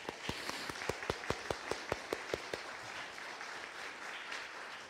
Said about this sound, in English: You should applaud for them because they're awesome.